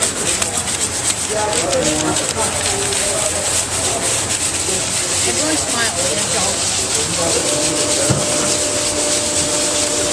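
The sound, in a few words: sanding a wooden pole for a coaster project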